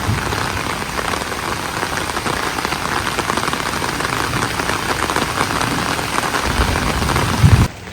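Heavy rain pours steadily and loudly for the whole stretch, a dense constant hiss of drops hitting surfaces, with a brief low thump near the end.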